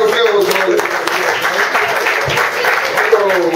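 An audience applauds at a New York comedy club, with steady clapping that runs throughout while a voice talks over it.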